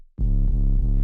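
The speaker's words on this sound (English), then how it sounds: "this Faturator, which is just adding that distorted, nice sound to it." A sustained, buzzy synth tone distorted by a Faturator effect, with rich harmonics, steady and loud, with slight rhythmic pulses in its texture.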